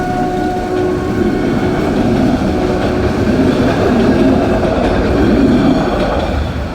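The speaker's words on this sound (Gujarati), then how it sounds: "યે ટ્રેન જોવાની." A train passing a closed railway level crossing, loud and near, a steady rumbling roar of wagons with rhythmic rail clatter building slightly toward the end, with no talking.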